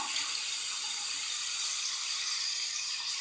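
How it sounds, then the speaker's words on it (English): Warm tap water runs steadily over a shaving brush in a sink, a continuous close hiss of flowing and splashing water with no talking. "Let me do a warm water rinse and a cold water rinse from the tap."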